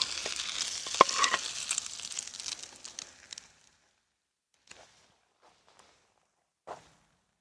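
A bear-meat cutlet sizzles and spits in a hot pan outdoors for a few seconds, then falls quiet apart from a couple of brief faint clatters.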